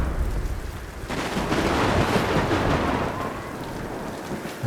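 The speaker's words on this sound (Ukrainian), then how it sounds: "Гроза в самому розпалі." Thunderstorm in a video game: rolling thunder over steady heavy rain, a loud continuous wash that swells in the middle and stays dense throughout, with no voices.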